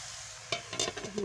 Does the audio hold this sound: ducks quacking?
no